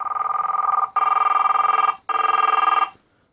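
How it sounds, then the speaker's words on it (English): An OKI CDL 450 briefcase cellphone rings in three loud, buzzing bursts of about a second each, separated by short gaps, then falls silent. "That'll be how you adjust the ringtone volume."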